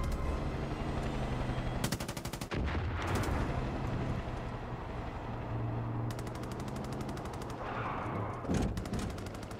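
Gunfire in the Far Cry 5 video game: two long bursts of rapid automatic fire, several loud heavy shots between them, and a low rumbling battle din throughout.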